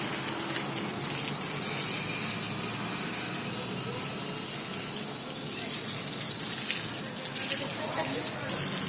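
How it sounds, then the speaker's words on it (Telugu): Tap water splashes steadily onto tree roots in a home garden, a continuous broadband rush of pouring and spattering that runs for the whole stretch, with faint voices in the background. "ఆడ నీళ్ళు పడుతున్నాము"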